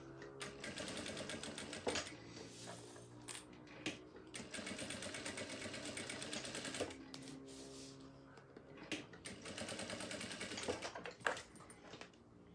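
Sewing machine stitching with nylon thread, running in long steady bursts with short pauses between them, a continuous mechanical whir and rapid needle clatter at moderate loudness.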